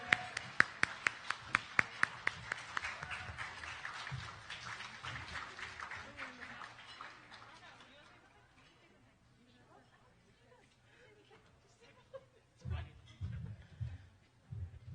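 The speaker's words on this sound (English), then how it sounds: "A big round of applause for our VCSA Executive Board" An audience at a youth excellence recognition ceremony applauds the VCSA executive board: sharp, fairly close claps ring out at first, then fade into a softer wash of clapping and murmuring crowd chatter, with a few scattered bumps near the end.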